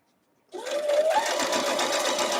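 A sewing machine stitches quilt block pieces together, its close, steady mechanical whir starting abruptly after half a second of silence and running evenly to the end.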